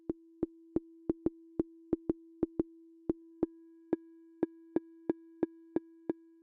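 A steady stream of short, bright synthesizer blips repeating at an even, quick pace, each a clean pitched pulse; a faint sustained overtone joins partway through.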